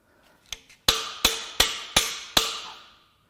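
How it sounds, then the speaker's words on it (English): Five sharp metallic hammer blows drive a socket onto a bolt on a damaged Subaru EJ253 engine from a Forester, evenly spaced and ringing briefly, preceded by a couple of lighter taps. "I think I can hammer the socket on there"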